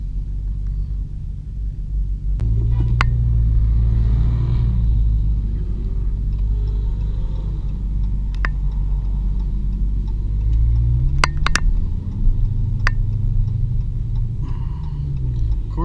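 Car interior while driving through a downtown area: steady low engine and road rumble with gear-shift changes, a few sharp clicks and ticks from inside the cabin, no talking.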